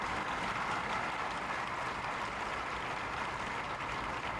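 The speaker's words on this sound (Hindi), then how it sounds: "सब खड़े होकर के ताली बजाएंगे, स्टैंडिंग ओवेशन देंगे" A large audience at an Independence Day celebration at Dev Sanskriti University gives a standing ovation, with dense, steady applause filling the hall without a break.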